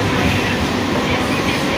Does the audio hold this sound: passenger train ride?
yes